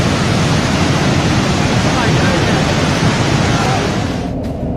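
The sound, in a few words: river water rushing after a cofferdam breach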